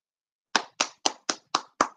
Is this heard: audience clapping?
yes